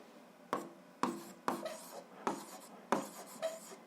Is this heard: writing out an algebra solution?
yes